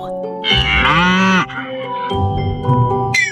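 A cow gives one long, loud, close moo that swells then breaks off, followed by softer lowing beneath a light children's song backing.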